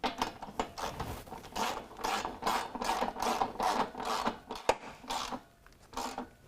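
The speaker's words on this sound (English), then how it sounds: "Then we can go ahead and tighten up the bolt that's going into the frame." A 13mm wrench tightening a bolt threaded into the frame of a 2015–2019 Chevy Silverado or Sierra during a running-board install, giving a steady series of close, rhythmic ratcheting clicks and rasps with brief pauses, no talk.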